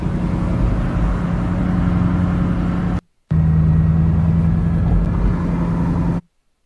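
A Mercedes Black Series engine idles with its exhaust valve closed, a steady, close, muffled low rumble that cuts out briefly partway through before resuming at the same even level.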